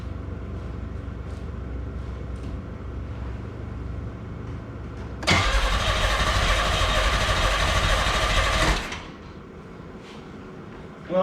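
A carbureted 2.8-litre Pontiac Fiero GT engine bursts into a loud, close roar for about three seconds. It then drops back, and quieter background noise follows.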